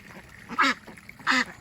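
Ducks kept in a fenced outdoor area give two loud, nasal quacks about half a second apart, close by, over a faint background.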